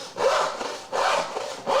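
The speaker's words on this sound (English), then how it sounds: "This is the Crosscut, and it cuts beautifully." A crosscut hand saw with a finely set blade cuts through wood in steady, rhythmic back-and-forth strokes, about three rasping passes heard up close, with no one speaking.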